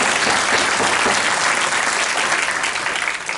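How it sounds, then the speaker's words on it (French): Audience at a French political rally meeting breaks into sustained, dense applause, loud and steady throughout with no talk over it, tapering slightly at the end. "On vous remercie, on vous applaudit."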